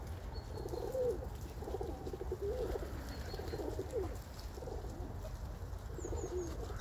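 Domestic pigeons kept for sale, including dark-coloured birds, coo repeatedly in low, rolling phrases over a steady background hum, with faint chirps higher up and no talking.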